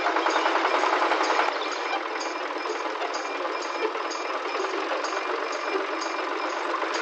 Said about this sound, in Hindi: ट्रैक्टर स्टार्ट हो गया। अरे वाह, ये तो आवाज कर रहा है।